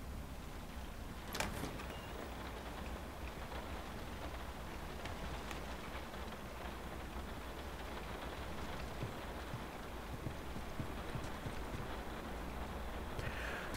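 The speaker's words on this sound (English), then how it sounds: "Look at that rain." Rain in the video game The Last of Us Part 2 falls as a steady, dense hiss of drops spattering on surfaces, with a brief sharper splash early on and no talking.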